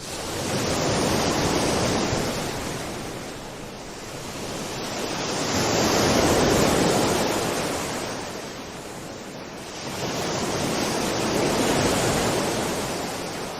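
Ocean waves break and wash in at regular intervals, each surge swelling loudly and then easing back into a softer hiss.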